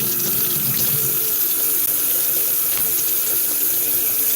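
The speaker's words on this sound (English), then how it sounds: "you're going to flush your hose out, just like that" Water runs steadily through a hose as it is flushed out after cleaning, a continuous close hiss and splash with no pauses.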